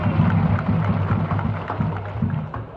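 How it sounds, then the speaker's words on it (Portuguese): A crowd applauds player Pedro Santos as the Campinense squad is presented, with steady, dense clapping that fills the whole stretch at close, loud level. "uma salva de palmas para Pedro Santos"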